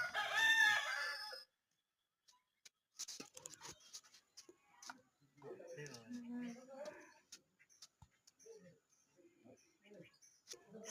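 A rooster crows loudly and close by at the start, then goes quiet while a person talks in scattered bursts over faint background sounds.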